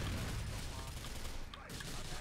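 Gunfire in the video game GTA IV: The Lost and Damned crackles as a dense, continuous fusillade of rapid shots, loud and steady throughout with no talk over it.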